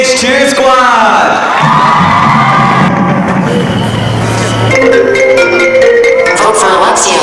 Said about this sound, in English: Everyone keep it a round of applause going for our EPH Cheer Squad!